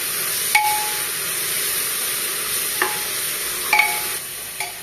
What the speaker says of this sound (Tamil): இப்போ நல்லா மிக்ஸ் பண்ணிக்கலாம்.